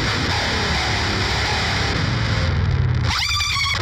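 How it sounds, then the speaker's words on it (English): A distorted, effected guitar tone plays, then a pitch-shift dive bomb drops it sharply downward a full octave near the end, sweeping steeply low. "So it's a dive bomb and it sounds like this."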